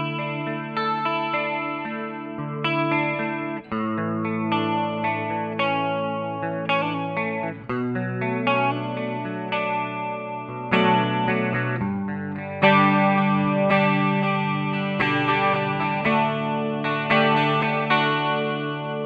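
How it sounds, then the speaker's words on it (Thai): Electric guitar through a NUX Mighty Lite BT MKII mini amp with a CE-2 style chorus, shimmering and lush across sustained chords and arpeggiated notes, played alone, steady and fairly loud. "อันนี้ขึ้น CE 2ก็น่าจะจำลองมาจากพวกแบบบอสยอดฮิตเลยลองฟังดูเป็นเสียงคอรัส"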